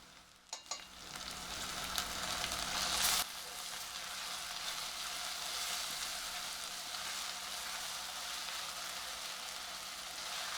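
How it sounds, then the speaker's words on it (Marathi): Ginger garlic paste hitting hot oil with browned onions for veg biryani, a sharp burst of sizzling at first that settles into a steady, loud frying hiss, with no voices. "आता आपला कांदा थोडासा लालसर झालेला आहे आता या स्टेजला मी एक चमचा आलं लसूण पेस्ट घालते"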